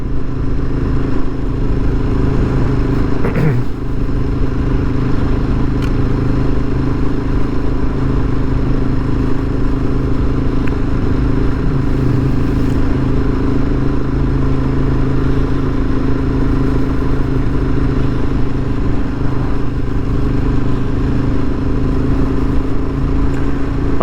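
A Ducati 848 motorcycle cruises on the road to Mersea Island, Essex, its engine a steady droning hum mixed with constant wind rush, heard up close from the rider's position throughout.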